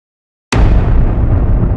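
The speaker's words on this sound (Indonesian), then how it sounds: "Kali ini terdengar suara ledakan yang sangat kencang" A very loud explosion sound effect from an audio drama bursts in sharply after half a second of silence, then roars on as a dense, rumbling blast.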